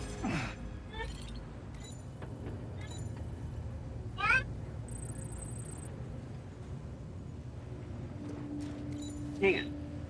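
A pet cat meows a few times, short rising cries spread across the clip over a quiet room with low background noise.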